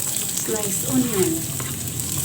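Sliced onion sizzles in a frying pan, a steady close hiss and crackle with faint stirring, and a voice murmurs briefly underneath.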